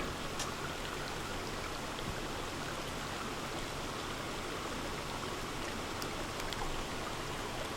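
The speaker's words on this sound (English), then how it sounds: "Oh, I wanted to show you the raindrops." Rain falls in a soft, even patter that stays steady throughout, with a few slightly sharper drops standing out faintly against the wash.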